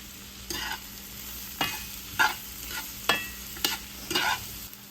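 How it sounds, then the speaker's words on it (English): Onions saute in butter for a soup, a faint steady sizzle under a handful of distinct stirring scrapes spaced about a second apart, close by with no voices. "I'm going to be adding onions also to this recipe, but I want to saute them first"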